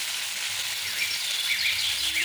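Boiled pumpkin pieces go into hot oil seasoned with a dried red chilli and plenty of chopped garlic, giving a steady, close hiss of frying that holds evenly throughout.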